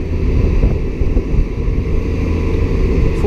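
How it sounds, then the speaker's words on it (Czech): Dumper truck driving at a motorway construction site, a steady loud low engine rumble with heavy wind buffeting the microphone throughout, no talking. "Další damper jede."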